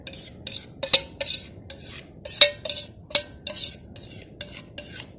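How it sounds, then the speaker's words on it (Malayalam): Thick mango pulp in a pot on the stove being worked with a utensil for jam: repeated rhythmic scraping and stirring strokes with occasional metallic clinks against the pot, close and clear, with no talking. "അതിലേക്ക് പൾപ്പ് ഒഴിച്ചു കൊടുക്കാം."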